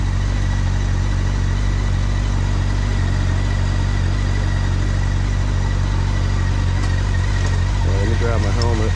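Honda Nighthawk 750 motorcycle engine idling steadily after a cold start, a loud continuous low rumble throughout with a voice speaking over it near the end.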